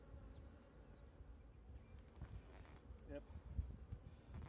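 Honeybees inside a Layens hive box give a steady, low insect hum that continues throughout, with faint handling noises and a little background activity mixed in.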